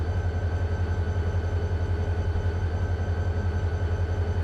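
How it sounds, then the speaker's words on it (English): Train trucks rumble steadily over a rail frog in Run 8 Train Simulator, a continuous low mechanical drone with faint rhythmic clatter and no voices. "It does make a sound when it goes over the frog."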